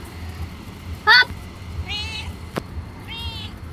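A street cat gives a few short, thin meows spaced across a couple of seconds, close but fairly soft, over a steady low background with a single sharp tick in between.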